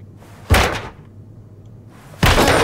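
A door is blasted open during a tactical police raid in the game Ready Or Not, heard as two loud, close slamming bangs about a second and a half apart, each with a short rough tail over a low background hum.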